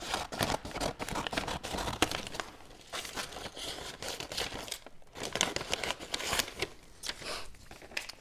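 Gift wrapping paper is cut with scissors, making close, quiet, continuous crinkling and snipping rustles with irregular crisp bursts throughout.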